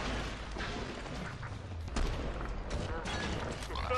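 Shotgun fire in the zombie shooter Killing Floor 2: dense, loud, continuous blasts and booming combat noise filling the whole stretch, with a few sharper peaks standing out.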